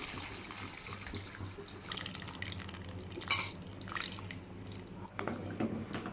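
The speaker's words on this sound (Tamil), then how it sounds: "புளியை கரைச்சி ஊற்றிக்கலாம்." Dissolved tamarind water poured into a pot of dry fish kulambu with vegetables, giving a steady close splashing, trickling flow with a few drips, alone and without talk.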